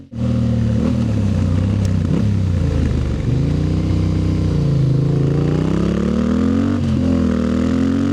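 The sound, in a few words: motorcycle riding on twisty mountain roads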